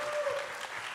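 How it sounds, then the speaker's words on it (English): A crowd at the Hip Hop Film Festival closing night applauds the cast with steady, dense clapping, faint and distant, for about a second. "Round of applause for this amazing cast one more time."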